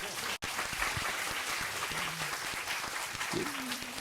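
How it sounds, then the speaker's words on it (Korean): Applause from the audience at a Korean talk concert on climate and environmental leadership, a steady roomful of clapping lasting the whole stretch with a brief dropout near the start and a little voice mixed in. "진짜 엄청 좋은 답변을 주시는 우리 사무총장님께서 한번 박수 부탁드리겠습니다"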